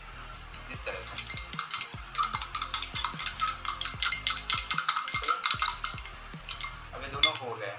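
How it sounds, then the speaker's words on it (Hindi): Barium chloride solution is stirred in a glass beaker in a lab, giving rapid, repeated clinks and taps of a stirrer against glass, close and fairly loud with a brief pause midway. "बेरियम क्लोराइड जैसे हम लोग ने सोडियम सल्फेट को भी मिक्स किया था, वैसे ही इसको भी मिक्स कर देंगे इस तरह से"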